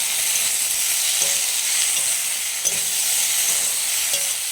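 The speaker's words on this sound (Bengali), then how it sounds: "কাঁচা লঙ্কা দিয়ে দিচ্ছি তারপরে একটু নুন দিয়ে দিচ্ছি ভালো করে নেড়ে চেড়ে" Green chillies and salt hiss loudly in a frying pan in a dense, continuous sizzle, with faint scrapes from stirring.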